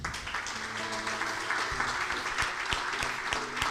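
A church congregation applauds, a dense, steady patter of many hands clapping throughout, with a faint voice underneath.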